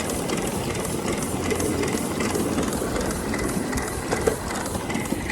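Three-cylinder club steam locomotive running unevenly during a boiler test, a steady close rumble and rhythmic mechanical clatter with a few sharper knocks, continuous throughout with no talking.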